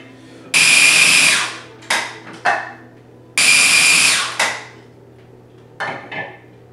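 A food processor grinds a roasted red pepper hummus base in loud, close whirring bursts: two long pulses plus several short ones, with quiet gaps between them.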